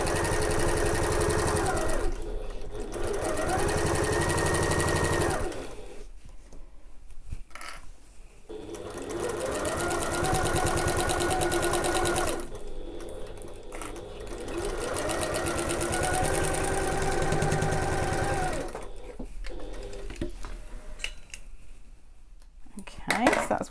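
A sewing machine stitches a seam through many thick layers of a backpack, running in long steady bursts of rapid mechanical chatter, near and loud, with short pauses between runs.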